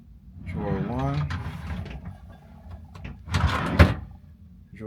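A drawer in a cruise ship cabin slides open and shuts, ending in a sharp bump, heard after someone speaks over the start.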